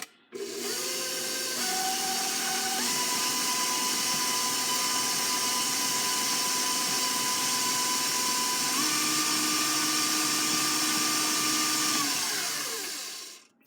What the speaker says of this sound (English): So I'm going to mix this now. Sorry for the noisiness.